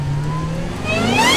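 A 2007 Shelby GT500 Super Snake prototype from Shelby American runs its engine with a steady, close, mid-pitched drone that climbs in pitch toward the end as the revs rise, with no voices.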